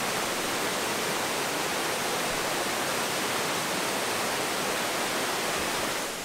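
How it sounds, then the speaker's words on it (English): A small waterfall at natural hot springs in Bajawa, Flores, pours hot water with a constant, dense roar heard up close, steady and unbroken with no voices. "Then over here, you've got this waterfall,"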